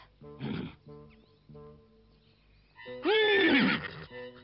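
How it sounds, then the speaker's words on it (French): A horse gives a short whinny, then after a pause lets out a longer, louder shrill neigh that rises and falls, heard alone and fairly close. "Ce cheval."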